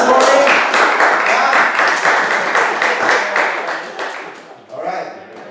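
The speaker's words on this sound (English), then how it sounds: "let's give God a big clap this morning" A church congregation claps together for several seconds during a morning service, a dense, loud burst that thins out and fades, with a brief spike of cheering near the end.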